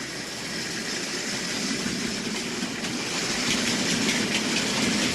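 A continuous rumble and hiss of an OO gauge model diesel train shunting wagons, with faint rhythmic clicking and rolling noise, steady and close throughout.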